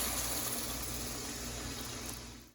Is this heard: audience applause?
no